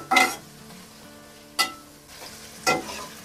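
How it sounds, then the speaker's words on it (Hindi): Crushed ginger and garlic frying in a pan while being stirred, with three short bursts of sizzling and scraping spaced about a second apart over a low background hum. "तो अब इसे हल्का सा फ्राई करेंगे।"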